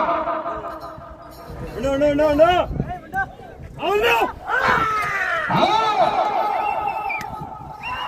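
A crowd at a village bullock-pair competition shouts and cheers in overlapping bursts, with loud rising and falling voices and excited calls that come and go over several seconds.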